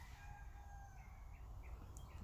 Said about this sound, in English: The rooster. Yeah, you hear the rooster?